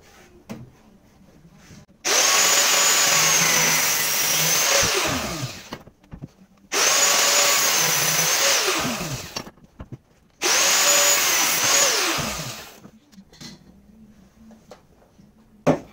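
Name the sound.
power tool cutting metal for go-kart suspension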